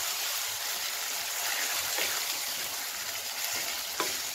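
Boiled mung beans go into a hot sautéing pan for ginisang monggo with sardines, making a steady, even close-up sizzle with a faint watery hiss and a couple of soft knocks.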